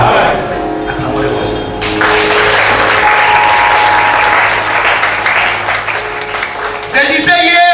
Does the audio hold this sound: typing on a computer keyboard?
no